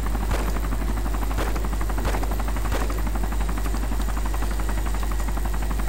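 A helicopter in the video game DayZ keeps up a loud, continuous rotor and engine drone with rhythmic thumping, joined by a few sharp impacts at regular intervals.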